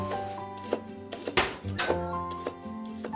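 A boy with muscular dystrophy chops food with a knife in a home kitchen while helping his father cook. A few sharp, scattered chops sit under steady background music.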